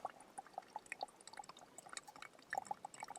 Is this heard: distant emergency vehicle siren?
no